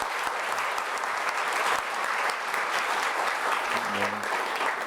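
A church congregation at a Korean Sunday worship service gives sustained applause of thanks, steady dense clapping filling the room for about five seconds, with faint voices murmuring underneath.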